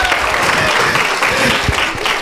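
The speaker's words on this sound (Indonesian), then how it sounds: "Kita beri tepuk tangan." Brief burst of dense audience applause at a school drama festival, steady and fairly loud throughout.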